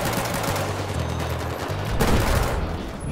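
Pistol gunfire in Battlefield 4 multiplayer: continuous dense crackle of shots and battle noise at steady loudness, with a sharper burst near the middle.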